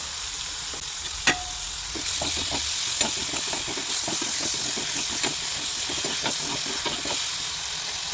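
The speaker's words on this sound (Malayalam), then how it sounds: "ആ ഉണക്കമീൻ വറുത്തെടുത്ത അതേ വെളിച്ചെണ്ണയിൽ നമ്മൾ ഇതിനെ വഴറ്റിയെടുക്കുകയാണ് ചെയ്യണത്" Onions and vegetables are sautéed in coconut oil left over from frying dried fish, and a steady sizzle runs under occasional sharp stirring clinks and scrapes of a spoon against the pan.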